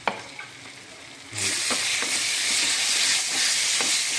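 Tomato chutney cooks in oil in a pan, a quieter simmer with a couple of spoon knocks giving way to a loud, steady sizzle and frying hiss, with occasional stirring scrapes, close and without talk.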